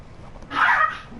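One short dog bark or yip on a farm, sharp and mid-distance, rising out of low background noise and fading quickly.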